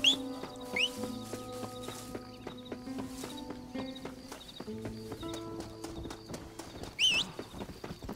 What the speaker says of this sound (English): Where the hell's my horse?